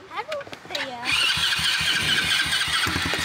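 A car engine cranks and catches, then settles into a steady, loud rumble that runs to the end. People talk just before it fires.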